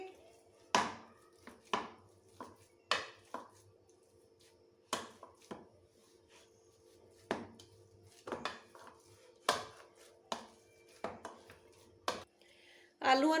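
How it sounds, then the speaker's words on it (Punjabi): Three boiled potatoes are mashed in a fairly large bowl, heard as about fifteen sharp, irregular thuds and taps, close and distinct against a quiet background. "ਤਿੰਨ ਬੋਇਲ ਕਰਕੇ ਆਲੂ ਲੈ ਲਾਂਗੇ ਇਹਨਾਂ ਨੂੰ ਚੰਗੀ ਤਰ੍ਹਾਂ ਨਾਲ ਮੈਸ਼ ਕਰ ਲਾਂਗੇ"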